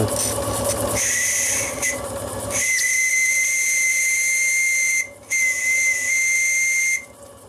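A loud, shrill steam whistle on a gas-fired model steam tug blows in long sustained blasts with a hissing edge, breaking briefly twice before sounding again, close by.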